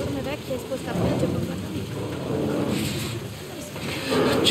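Rain in the video game The Last of Us Part 1, a steady hiss of rainfall with low rumbling underneath, continuous and moderately quiet, with a louder swell near the end.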